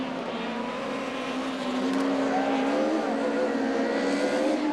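Two-wheel-drive rallycross race cars in Division 4 at Lohéac in 2022 give a steady, droning engine roar at a moderate distance, its pitch gently rising and wavering as the cars race, with no talk over it.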